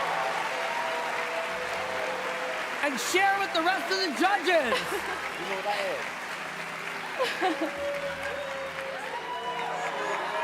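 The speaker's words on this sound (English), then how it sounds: "Give him a big round of applause" Studio audience applause and cheering at a televised talent show, a steady roar of clapping under a host's voice talking over it throughout.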